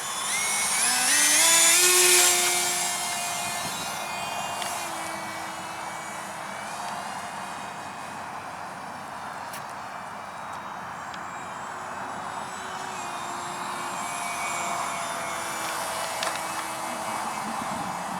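A radio-controlled XB-70 Valkyrie model airplane flies overhead with a high, whining electric ducted-fan drone, swelling loud early and then holding a steady sustained tone at about half throttle.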